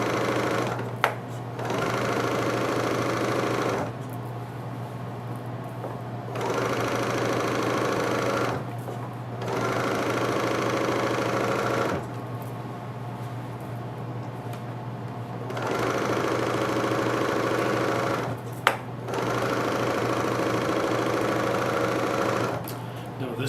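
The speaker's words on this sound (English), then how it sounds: "I'm just using the blade, the knife on my serger to trim my fabric" A serger's knife blade trims lengths of quilt border fabric, the machine running in loud sustained whirring bursts of several seconds, separated by short pauses.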